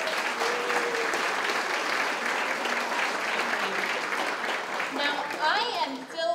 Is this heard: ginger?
no